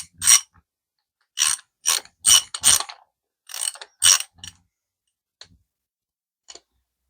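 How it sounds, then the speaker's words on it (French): A 7/16 socket wrench ratchets in short, close clicking bursts while loosening the thermostat housing on an Austin Mini engine, several quick runs of clicks separated by silence and a few faint single ticks near the end. "je vais enlever la pipe où il y a le thermostat. Alors c'est une douille 7/16e."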